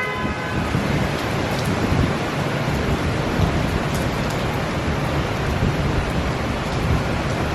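Heavy rain pours steadily in a dense, even hiss, with low thunder rumbling underneath throughout; no voices.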